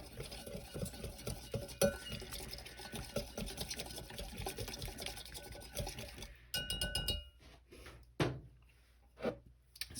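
A spoon stirs chili paste in a bowl with quick, rhythmic wet scrapes and light clinks, then a few sparser, sharper taps toward the end.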